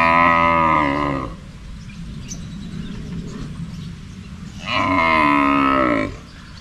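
A large cow moos twice, each call long, loud and close, with a quiet stretch of farmyard background between them.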